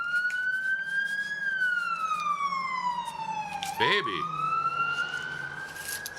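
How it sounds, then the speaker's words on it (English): Ambulance siren wailing as the ambulance pulls away from a hospital, a loud, slow rising and falling tone close by, with a brief horn-like burst midway and a voice speaking briefly. "That's the ambulance leaving the hospital going to get somebody because somebody is hurt."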